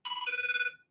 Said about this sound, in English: Okay, I'm getting a phone call.